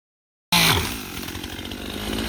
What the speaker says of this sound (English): For some reason, you insist on cutting down giant trees with this tiny chainsaw.